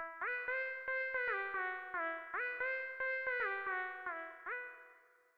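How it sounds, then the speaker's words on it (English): A movie swell synth patch from DX10 in FL Studio, with portamento, plays a repeating phrase of sustained tones that glide smoothly between pitches, each note swelling and fading with a brief click at its start. "Here's the movie swell, and I play movie swell from DX10."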